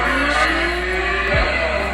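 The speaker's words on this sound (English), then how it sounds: "engine sound" Simulated engine sound effect from the speaker of a red toy ride-on pickup truck, a steady electronic revving drone with a brief tire-squeal sweep, close and continuous with no talking.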